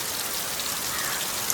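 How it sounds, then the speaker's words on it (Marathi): Heavy rain pours down in a village, a dense, steady hiss of drops on surfaces with no voices, continuous throughout. "पण आता काय करूच शकणार नाही कारण पाऊस जोरदार पडता."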